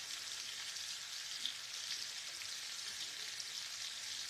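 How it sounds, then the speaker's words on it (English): Food sizzles and crackles in hot frying oil, heated to around 333 degrees, as dinner is cooked; a dense, even hiss holds steady throughout with no voices. "The oil's hot enough that it would do it, but you want it to be at that perfect frying temperature."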